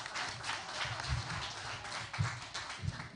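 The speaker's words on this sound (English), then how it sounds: "Let's give them all a hand." Audience applause at a spelling bee championship, a soft, distant patter of many hands clapping steadily throughout.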